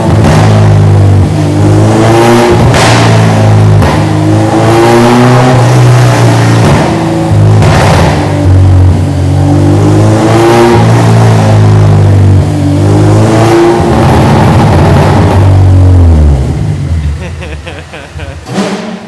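A Honda Integra with a K20Z3 engine on a dyno, running a burble tune, revs hard and loud for about sixteen seconds, its pitch sweeping up and down repeatedly before dropping off, with voices heard faintly under the engine.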